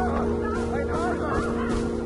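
Honking bird calls from the jungle of the video game Far Cry 4 sound loud and steady, with repeated nasal goose-like cries over a constant game ambience.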